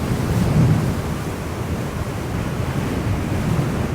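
Heavy, steady wind roar buffets the microphone while riding an electric unicycle, a Extreme Bull GT Pro Plus, at speed, dense and low-pitched with no breaks or talking.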